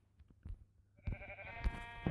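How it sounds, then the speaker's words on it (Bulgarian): A Minecraft sheep bleats in a short nasal cry amid quiet game ambience and soft footsteps, close and alone without any voices. "Ето първата овца."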